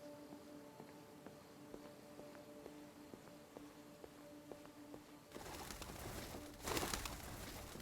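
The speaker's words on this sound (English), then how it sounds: "Love these birds. I wish we could interact with them." Pigeons coo softly in the background of the video game Detroit: Become Human, faint and distant under a steady ambient hum, with a louder noisy wash toward the end.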